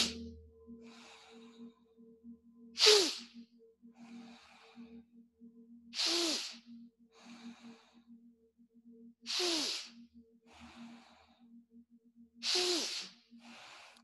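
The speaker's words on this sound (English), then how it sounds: "Keep on breathing, really pulling the air into the heart." Exaggerated deep inhales and exhales of a kundalini breathing exercise for sleep, four strong rushing breaths spaced about three seconds apart with softer breaths between, close and alone over a low steady hum.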